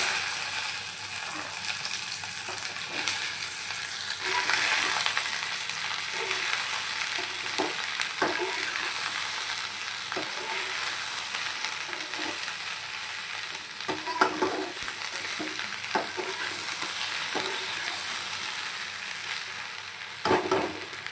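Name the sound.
okra frying and being stirred in tempered spices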